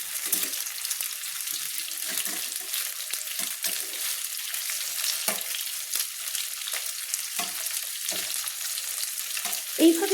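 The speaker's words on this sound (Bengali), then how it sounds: "যাতে না জল ছাড়ে সেই জন্য আমি চিকেনগুলো মাঝারি ফ্লেমে দিয়ে ভেজে নিচ্ছি।" Chicken pieces fry in a pan over a medium flame with a continuous hiss of oil, while scattered taps and scrapes from turning the pieces come through close up, and no one speaks.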